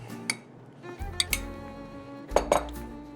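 A pan being handled on a stove to melt butter, giving several sharp metallic clinks and knocks in irregular bursts, close and clear, without speech.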